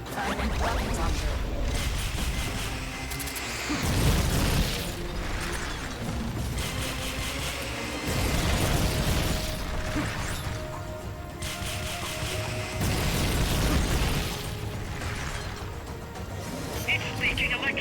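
Rocket launcher fire and explosions in Metal Gear Solid: Peace Walker, heavy booming blasts and mechanical crashes repeating every few seconds over dense game noise and music, with voices talking throughout.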